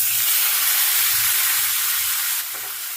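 Chopped tomatoes fry in a pan of oil for a spicy tilapia curry, giving a close, steady hiss and sizzle that eases slightly near the end. No one speaks.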